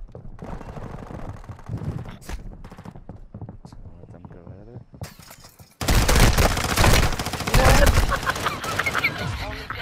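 Video game gunfire: a long, loud burst of rapid automatic shots in the second half, following a stretch of excited talk and shorter shots, with voices throughout.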